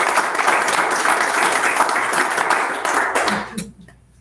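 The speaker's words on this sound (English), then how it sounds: "please join me in giving everybody mentioned a warm round of applause" Audience at an evening community consultation session giving a warm round of applause, dense and sustained, then tapering off and fading out near the end.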